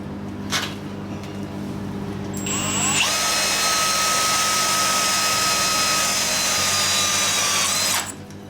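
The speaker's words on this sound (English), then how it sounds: "let me get the drill in." A power drill whines up to a steady high-pitched drone, running loud and close for several seconds before stopping abruptly.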